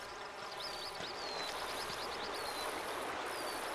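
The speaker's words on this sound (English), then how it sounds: "because of how loud the water ambience is, I'm not going to hear much through it" Steady rushing water stream ambience from a hunting game set in a grassy field, a continuous wash of flowing water with faint bird chirps over it, no talking.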